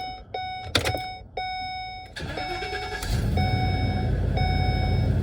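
A Ford E-350 Super Duty box truck's Triton 5.4-liter flex-fuel V8 starts up after a series of dashboard chimes, then settles into a steady, fairly loud idle.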